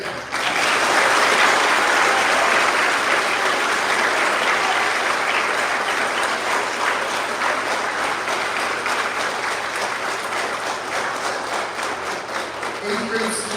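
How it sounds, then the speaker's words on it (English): A large audience at a 2024 middle school eighth grade promotion ceremony applauds, with sustained, dense clapping that stays loud throughout and tapers slightly near the end. "that round of applause for everyone, not for this research. Let's do it again."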